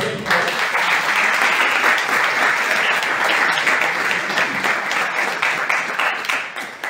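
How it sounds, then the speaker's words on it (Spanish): An audience applauds a guest introduced at a Spanish-language talk on parenting, a dense, even clapping that holds steady for several seconds before tapering slightly. "Un fuerte aplauso para ella."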